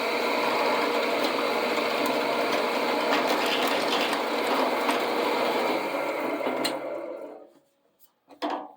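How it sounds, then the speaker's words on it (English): Drill bit boring through sheet metal at 1000 RPM on a chandelier part, a loud continuous whirring grind that cuts off near the end, followed by a couple of brief knocks. "the drill bit is going to make the hole in the perfect place, and there's no way that this sheet metal can bend, warp, or distort when the bit goes through it"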